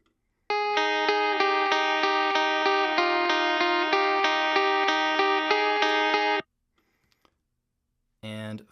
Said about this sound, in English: we have a little bit of compression on this